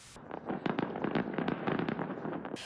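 A festival fireworks show crackles and pops with a rapid string of bursts, heard at a moderate distance and fairly faint, with no voices.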